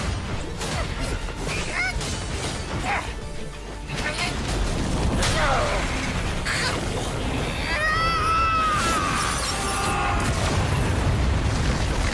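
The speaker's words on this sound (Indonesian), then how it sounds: "Ledakan keras bergema" A heavy, rumbling explosion with crashing debris, loud and sustained, with a deep boom swelling toward the end.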